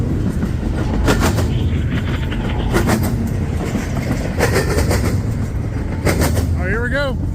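A long freight train with a distributed power unit rumbles past close by, with steady rhythmic wheel clatter over rail joints, loud and continuous, while a person talks briefly.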